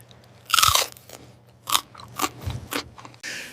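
Crunchy food is bitten with a loud, sharp crunch, followed by several quieter chewing crunches at uneven intervals, very close and alone, with no talking.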